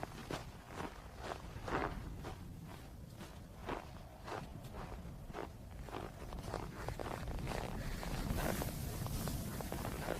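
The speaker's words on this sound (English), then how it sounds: "He listens to the snow under his boots." Boots crunching on snow in the Arctic, a steady series of soft footsteps close to the microphone with light wind noise behind.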